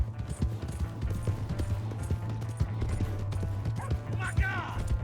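Horse hooves clip-clopping in Red Dead Redemption 2, a rapid repeating beat of hoofbeats running steadily under background game noise, with a brief whinny-like voice near the end.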